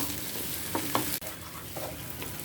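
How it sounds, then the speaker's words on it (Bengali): Three kinds of lentils, mung, masoor and chana dal, frying for khichuri, a quiet continuous sizzle with a few soft stirring scrapes and one sharp click. "খিচুড়িতে 3 রকম ডাল দিয়েছি, মুগ ডাল, মসুরের ডাল আর বুটের ডাল। এখন ভালোভাবে ভেজে নেব।"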